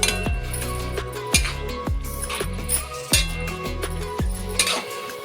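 A spoon scrapes and knocks against a pan while grated bottle gourd is stirred in ghee, giving a series of sharp metallic clinks at an uneven rhythm, close and fairly loud with no talking.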